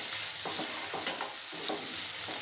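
Onion and capsicum frying in a pan for a chilli chicken gravy, a steady broadband sizzle with several scraping stirs of a spoon against the pan and a few sharper clinks, close and continuous with no talking.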